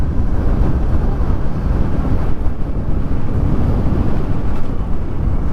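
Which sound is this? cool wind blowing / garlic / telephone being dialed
cool wind blowing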